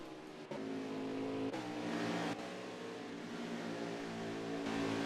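Stock cars running three wide in a tight pack in a racing video game, a loud, sustained multi-engine roar with a few abrupt shifts in tone as cars jostle and pass.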